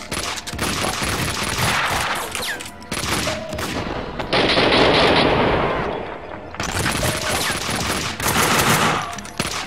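AK rifle fire in the video game Max Payne 2, loud rapid automatic bursts with short breaks and one longer sustained volley, no speech heard.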